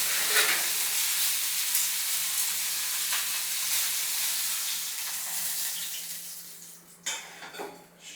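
Beef sears in a hot oiled pan with a loud, steady sizzle up close, easing slightly near the end as a few pan scrapes and clinks break through.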